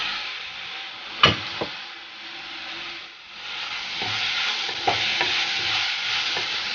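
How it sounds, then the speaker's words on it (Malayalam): Chopped medium-sized tomato is tipped into a pan of Kerala-style fish curry and stirred, a spoon scraping and knocking in a few close, sharp clicks over a soft, steady simmer and sizzle. "ഒരു മീഡിയം സൈസിലുള്ള ഒരു തക്കാളി ചെറുതാക്കി അരിഞ്ഞിട്ടുള്ളത് അതുകൂടെ ചേർക്കാം"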